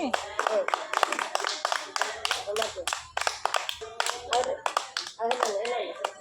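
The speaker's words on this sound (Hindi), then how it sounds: "समस्त आस गोटे ताली मारो" Children clap their hands in short irregular bursts during a kindergarten maths lesson, with a teacher's voice talking over and between the claps.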